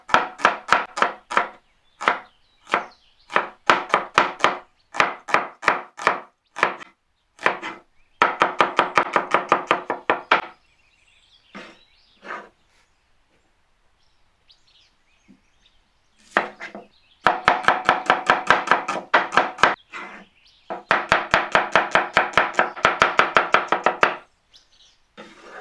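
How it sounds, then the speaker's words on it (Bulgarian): Onion being thinly sliced with a knife for fried peppers with onion, a rapid run of crisp taps on a cutting board in several bursts with short pauses, close and clear. "Ще нарежа лука. Режеш ето така напред"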